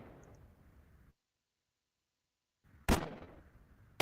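In a video game, an NPC fires a shotgun or pistol: after a low murmur and a stretch of silence, one sharp, loud shot cracks and decays, followed by the start of another at the very end.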